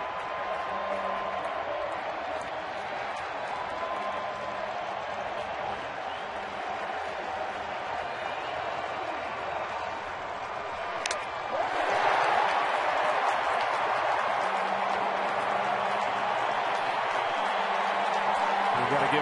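Baseball crowd at an ALCS playoff game keeps up a steady murmur and scattered clapping, then swells into louder applause and cheering past the midpoint, with a commentator talking over it.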